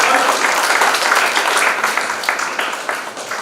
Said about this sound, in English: Claps. All of you.